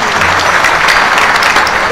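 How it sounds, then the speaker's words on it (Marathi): A crowd at a birthday celebration for a legislator in Nanded claps together in dense, sustained applause, loud and close throughout. "ज्यांचं अभिष्ट चिंतन आहे त्यांच्याकरता एकदा टाळ्या वाजू म्हणा"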